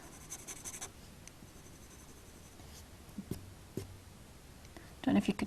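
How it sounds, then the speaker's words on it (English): A goldenrod coloured pencil scratches across paper in a drawing session, a soft, fine rasp with light irregular strokes and taps, quiet and close throughout. "Don't know if you could hear that then when I first put the pencil there. That scratching noise."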